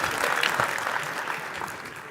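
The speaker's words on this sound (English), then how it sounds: "Warm round of applause for all members of the panel, please." An audience at the Bizkaia Enpresa 2023 business event gives the panel members a warm, dense round of applause, steady and close throughout the short burst.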